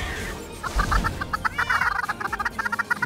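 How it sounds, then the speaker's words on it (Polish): Chickens clucking in Minecraft, a rapid run of short, bright clucks in quick bursts, fairly loud and near, with no voices over them. "No nie, teraz kurczaki!"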